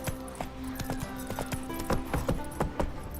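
A horse gallops in The Witcher 3 with steady, rhythmic hoofbeats over a continuous game soundscape, loud and close, with no speech.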